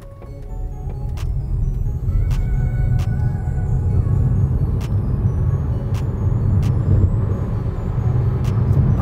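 A Seres 3 compact electric SUV accelerates at full throttle in sport mode, producing a steady low rumble and road roar that builds slightly, with a few sharp clicks over it.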